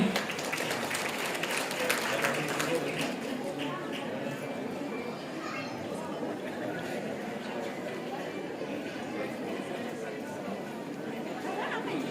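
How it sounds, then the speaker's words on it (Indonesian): An audience at a community anniversary celebration applauds a dance performance, with steady clapping and crowd chatter heard throughout, loudest at the start and then holding even while people talk over it. "Kita sambut dengan tepuk tangan yang paling meriah"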